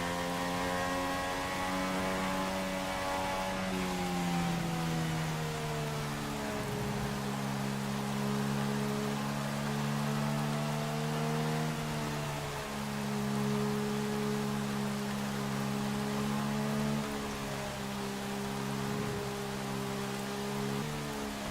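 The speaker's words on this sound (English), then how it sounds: "a very wet USA Grand Prix, but this rain is going to pass." Rain during a very wet USA Grand Prix formation lap in the racing game F1 2016, a faint steady hiss under droning race car engines.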